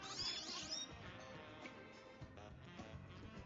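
Meowth's cry from Pokémon Legends Z-A, a soft, short cat-like meow at the start followed by quieter game background sound.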